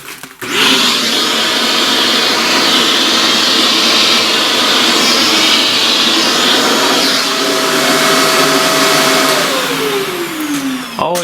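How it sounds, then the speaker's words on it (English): A vacuum cleaner sucks up charcoal dust from a drawing, roaring loud and close in one steady whine for several seconds, then winding down in falling pitch as it switches off. "Always surprised how well the vacuum works"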